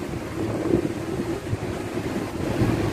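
Gusty wind at Praia Grande beach, São Paulo state, Brazil, on a warm late afternoon, rumbling and buffeting the microphone, with a low, churning roar like surf in the background.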